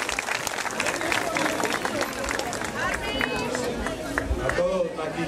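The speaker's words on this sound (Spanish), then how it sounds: "A los del sonido, un aplauso a los del sonido." An outdoor crowd at a Via Crucis performance in a park applauds for the sound crew, scattered clapping mixed with crowd murmur and overlapping voices.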